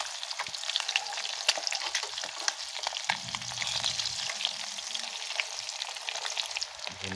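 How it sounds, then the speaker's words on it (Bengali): An egg frying in a pan gives a steady bright sizzle and crackle with soft spattering pops, close and continuous, with a brief lower rumble partway through. "আর একটু তাহলে হয়ে যাবে ডিম ভাজা আমার।"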